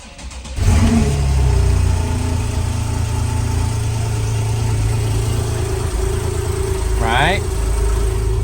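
A Porsche engine fires up and settles into a deep, steady rumble, with a brief rise in revs partway through; a voice is heard briefly over the running engine.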